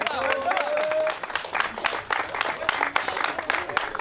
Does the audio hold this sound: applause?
yes